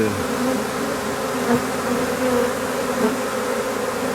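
A honeybee swarm pours into a hive, its dense steady buzz filling the air close by, constant and unbroken without speech.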